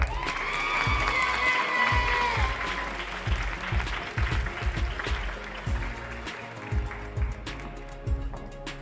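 Loud, dense applause and cheering from an audience at the Miss New York Teen USA pageant finals, sustained throughout with scattered shouts and a brief tonal whistle-like sound early on.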